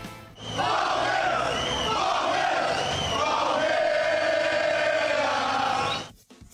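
Palmeiras football supporters chant loudly and continuously as a dense crowd outside a hotel in Buenos Aires before a match against River Plate, sustained roaring voices filling the scene for several seconds.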